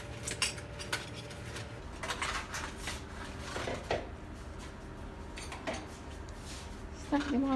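A metal fork clinks and scrapes against a dish in scattered, light taps while corn is prepared in a kitchen, with a low hum and talking heard in the background.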